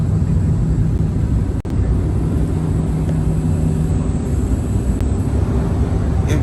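A private jet in flight descends toward landing over Las Vegas, its cabin filled with a loud, steady engine roar and airflow rumble, broken only by one brief sharp click.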